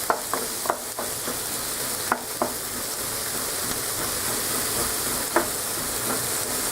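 Food fries in oil in a pan while being stirred: a steady, bright sizzle fills the kitchen, punctuated by sharp utensil clicks and scrapes against the pan.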